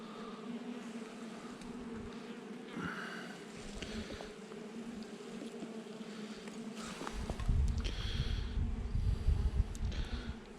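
Honeybees buzz steadily at a hive entrance in spring, a dense close hum with individual bees passing near, louder toward the end.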